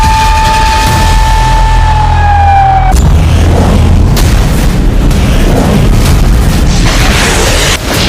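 Heavy booms from attacks across Ukraine fill the air, loud and continuous, after a wailing siren tone that cuts off abruptly into a dense rumbling roar of blasts.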